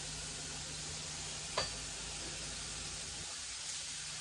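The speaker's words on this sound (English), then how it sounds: "I'm going to go ahead and put my onions and my garlic in there" Onions and garlic sizzle in a hot pan alongside zucchini and maple, making a steady close hiss with a single sharp clink partway through.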